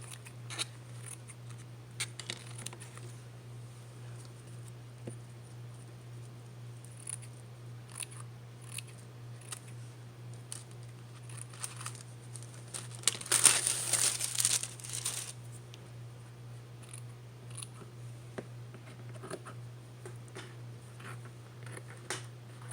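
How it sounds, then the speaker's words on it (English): Scissors trim oversized fabric for an altered craft calendar, a quiet scatter of small snips and rustles over a constant low hum, with a louder crinkling burst midway. "Watching me cut this fabric has to be the most entertaining thing ever."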